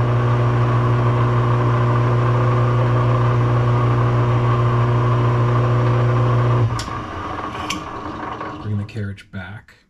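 A lathe carriage drives in on power feed while a collet adjusting nut for a Royal 5C collet closer is being made. The motor whirs steadily and loudly, then cuts off about two-thirds through, followed by a few sharp clicks and knocks.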